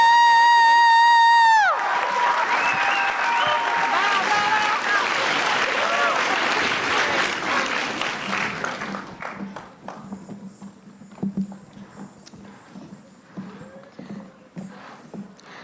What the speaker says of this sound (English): Can I please get one last round of applause for our incredible